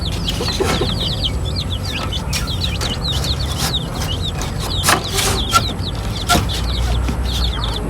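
Chickens clucking in a coop housing breeder hens and small chicks, a steady chorus of overlapping clucks and chirps with some louder calls nearby, under constant background noise.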